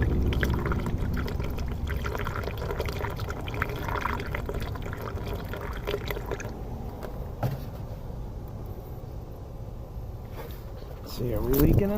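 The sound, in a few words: coolant being poured into Toyota Sienna hose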